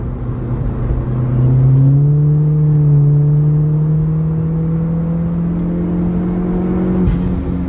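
A car pulls steadily under boost in fourth gear during a boost gauge test, the engine's droning note rising slowly and evenly from inside the cabin, loud and close with no talk.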